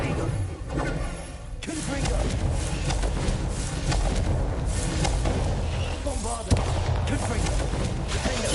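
The Confringo fire-blast spell in Hogwarts Legacy, bursting with a series of booming, crackling explosions amid constant game clatter and a sharp hit near the end, while a voice talks over it.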